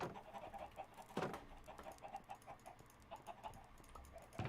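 Minecraft chickens clucking softly in a few scattered bursts, faint and distant over quiet background with light tapping.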